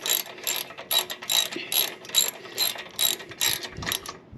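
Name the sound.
socket wrench ratcheting, tightening Harley exhaust Allen bolt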